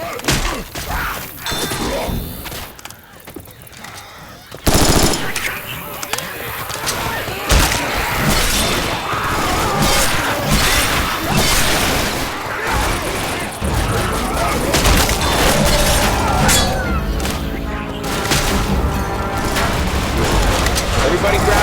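Dense gunfire and explosions from Left 4 Dead 2 fill the scene, a loud continuous barrage with thuds and crashes, briefly dropping out near five seconds before resuming under game character voices.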